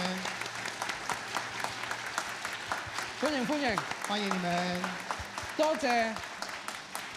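A congregation claps steadily at an Easter Sunday church service, welcoming new visitors who stand. The dense applause runs throughout the clip beneath someone speaking warmly in Cantonese over a microphone.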